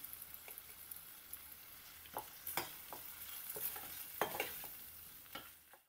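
Ground masala paste sautéing in a pan for masalebhat, a steady soft sizzle with scattered sharp clicks of a spoon scraping the pan, close and fairly quiet throughout.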